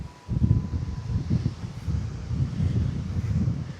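Strong wind gusts buffet the microphone in a lakeside park near pickleball courts, a steady low roar rising and falling in waves with rustling, no talking.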